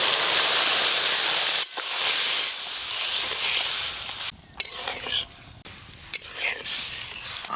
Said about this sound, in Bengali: এবার ডাল ছকে দেবো